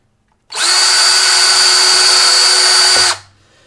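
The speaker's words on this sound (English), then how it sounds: "I'm just gonna drill a pilot hole in the middle of that marking" A power drill with a small 3/32 bit bores a pilot hole for a floating box bookshelf, a steady high whine starting abruptly and running about two and a half seconds before spinning down, close and loud with no talk.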